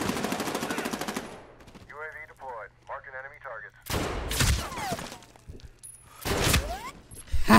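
Gunfire in the first-person shooter Medal of Honor Warfighter: a dense burst of automatic fire at the start, then later sharp shot bursts mixed with game effects, with a player talking between them.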